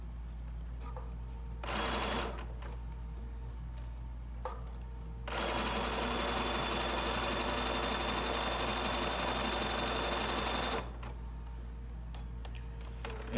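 A sewing machine stitches an applique heart in a store demo, running in a short burst and then a long steady whirring run of several seconds before stopping, with no talk over it.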